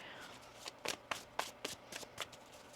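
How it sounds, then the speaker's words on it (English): A deck of tarot cards riffled and shuffled in several quick, crisp bursts, close up and fairly quiet, with no talking. "One more shuffle."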